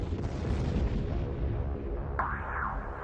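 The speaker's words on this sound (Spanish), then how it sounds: "hubo explosiones múltiples." Multiple explosions as a plane strikes the Pentagon, a dense rolling roar of blasts that carries on steadily, with a sharper burst breaking in partway through.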